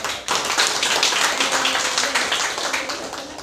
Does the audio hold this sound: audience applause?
yes